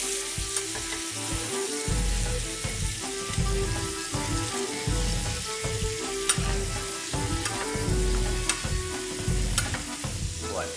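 Meat rolls brown in a hot pan with a dense, continuous sizzle and crackle, joined by repeated clattering stirs and scrapes that come close and loud throughout, with no speech.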